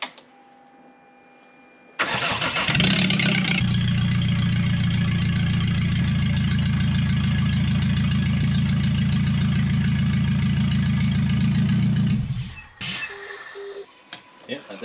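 A Nissan Navara D40 with a 2.5-litre YD25 turbo diesel cranks and catches, then runs loud and rough for about ten seconds at close range with a harsh racket before shutting off.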